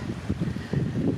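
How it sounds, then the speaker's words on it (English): Wind blowing on an exposed hillside hike near a spring, heard as a low, steady buffeting rumble with gusty surges battering the microphone throughout, no talk. "it's a very windy hike up here."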